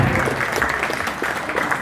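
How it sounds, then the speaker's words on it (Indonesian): Applause from the audience at a Maulid religious gathering, honoring the organizing committee; dense, steady clapping fills the short moment at close range and high volume. "Tepuk tangan untuk panitia."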